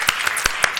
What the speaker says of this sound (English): So another round of applause for everyone.